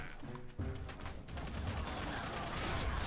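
Artillery cannons fire in a video game battle, producing dense, continuous booming and crackling bursts that layer into a loud, sustained rumble of gunfire throughout.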